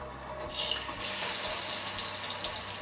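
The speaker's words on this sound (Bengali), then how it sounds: "ওদিকে দেখো জলও ফুটে গেছে" A pot of water boils for hilsa biryani, giving a steady rushing, bubbling hiss that swells louder after about a second and carries on close by with no talking.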